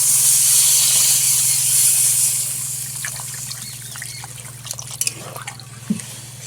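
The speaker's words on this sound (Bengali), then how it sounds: "এবারে পরিমাণ মতো জলটা দিয়ে দেবো" Water poured into a potato and fish curry in a pot: a loud, close splashing stream for about two seconds, then fading into quieter trickles and a few light knocks.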